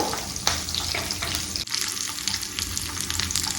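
Urad dal and mustard seeds fry in hot oil, giving a loud, dense, continuous sizzle and crackle close up, with a stirring scrape partway through.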